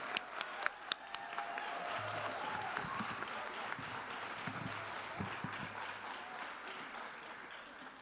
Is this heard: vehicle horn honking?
no